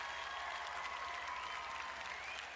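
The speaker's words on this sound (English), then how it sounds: "Give them a round of applause." A short burst of dense, steady crowd applause, continuous broadband clapping throughout with no pauses or voices over it.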